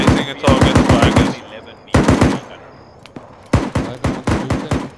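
A .50 calibre machine gun fires in the video game Arma 3, loud close bursts of rapid heavy shots in three separate volleys with short pauses between them.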